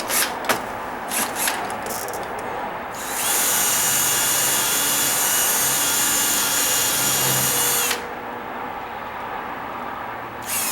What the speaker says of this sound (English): now I can get back up there and drill into that